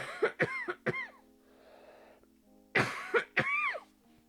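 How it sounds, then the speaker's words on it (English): A person coughs in a persistent, harsh fit: several rapid close-up coughs, a brief pause with a little background hiss, then another loud burst of coughs. "That cough is now becoming rather annoying and persistent."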